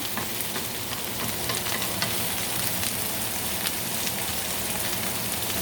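Bitter melon and egg frying in a pan, giving a dense, steady crackling sizzle that fills the close foreground without pause, with faint stirring ticks and no speech.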